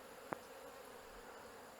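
Honeybees fly around a hive fitted with a sugar syrup feeder, pollen feeder and honey supers, giving a faint, thin buzz under steady background noise with one short sharp click.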